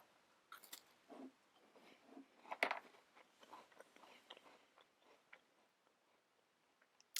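A digestive biscuit being bitten and chewed close to the microphone, with a series of dry, irregular crunches and one sharp louder snap, over near silence.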